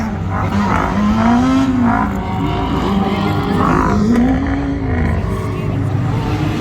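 Caravan banger racing cars on the track at Crimond Raceway, a loud, steady engine roar with rising and falling revs as stuck cars try to get going, with a commentator's voice faintly under the noise.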